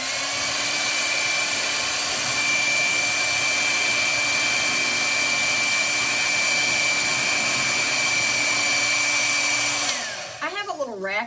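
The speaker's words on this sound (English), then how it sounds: "This is where the blow dryer comes in handy." A handheld blow dryer blasts air to dry a wet gloved hand in a home kitchen, a loud steady whirring hum that runs continuously for about ten seconds before switching off, followed by brief wavering sounds as it winds down.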